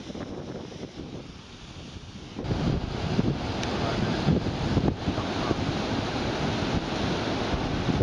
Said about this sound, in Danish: Så er der sgu vandfald nu.